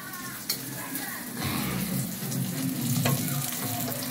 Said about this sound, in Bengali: মাছটা ভাজছি, মাছ তো ভাজা হয়ে যাক